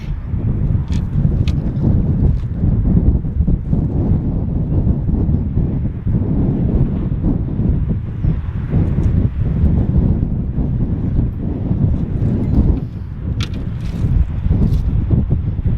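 Strong coastal wind near high tide roars steadily against the microphone, a loud, continuous low rumble with gusty buffeting throughout and no voices.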